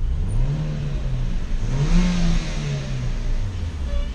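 A 2014 Hyundai HB20 1.6 engine with a sporty exhaust muffler revs up a few times in neutral, rising and falling in pitch, moderately loud and close.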